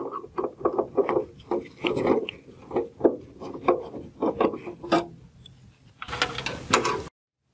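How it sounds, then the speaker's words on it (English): Close, rhythmic scraping and creaking of a screwdriver backing out mounting screws from a relay panel, a string of short gritty turns and squeaks followed by a final rustling burst. "We're going to remove these mounting screws on the panel."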